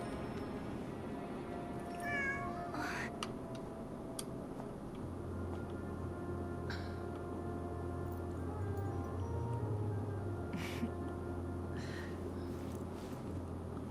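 A cat meows in the Genshin Impact video game, a few short cries standing out over steady game music and ambient background sound.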